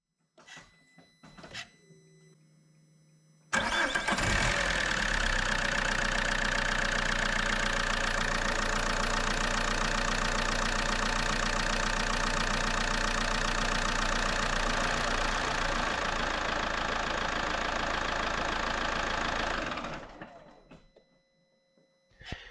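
Opel 1.9 CDTI diesel engine idling after an oil change, a steady loud clattering drone that starts abruptly, holds evenly for about sixteen seconds, then cuts off.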